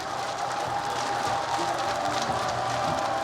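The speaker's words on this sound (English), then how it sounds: "Serious noise being made by that crowd." An esports arena crowd at a Dota 2 playoff match, Epicenter 2017, roars in a dense, continuous wash of cheering and applause that holds steady for a few seconds, with faint commentary underneath.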